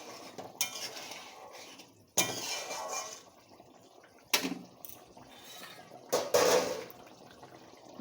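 A metal plate used as a lid clanks as it is lifted off a pot of simmering potato and egg curry, giving several sharp, close metallic knocks and scrapes spread over a few seconds, with no talking.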